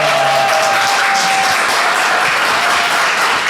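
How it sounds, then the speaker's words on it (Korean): Loud, close audience applause at a Bupyeong political academy lecture with lawmaker Woo Sang-ho, a dense wash of many hands clapping continuously with a faint tone at the start. "박수 한번 부탁드립니다"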